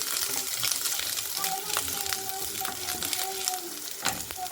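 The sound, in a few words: ginger frying in a pan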